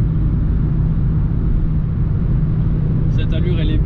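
A car cruises at night on a French motorway around 130 km/h, a steady, loud engine and road rumble with tyre noise running throughout, and a faint higher whine creeping in near the end.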